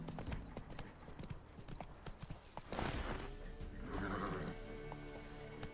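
Horse hooves clip-clopping in The Witcher 3: Wild Hunt, with a loud neigh bursting out midway and a whinny after it over a faint in-game background.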